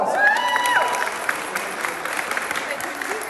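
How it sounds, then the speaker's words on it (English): Keynote audience applauding, steady clapping with faint crowd noise, while a voice talks over the start. "Give a round of applause."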